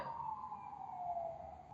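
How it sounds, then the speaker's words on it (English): A police car siren passes by outside, a steady wailing tone that slowly falls in pitch as the car goes past. It is moderately loud and heard alone without talk. "let me just wait till that police car goes by"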